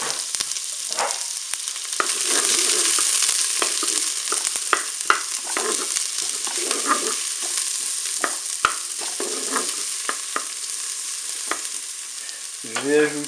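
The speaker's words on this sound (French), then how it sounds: "je vais faire revenir mes oignons" Onions sautéing in oil inside a preheated Cookeo multicooker bowl, a steady hiss of frying with repeated scrapes and taps of a utensil stirring, close and alone with no talk.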